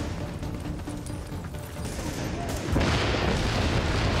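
Explosive rounds detonate in The Division, heard as a loud, dense burst of booming blasts and gunfire that intensifies toward the end.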